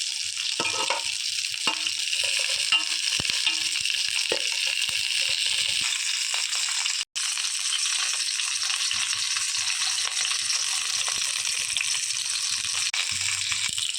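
Eggplant pieces frying in oil over a low flame for a Kongu-style village eggplant curry, a steady close sizzle with occasional stirring scrapes and a brief break midway.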